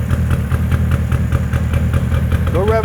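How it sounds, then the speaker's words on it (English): The two-stroke engine of a 1970 Subaru van idles close by with a steady, buzzing, slightly uneven beat. "Go rev it up. See if both cylinders are hit."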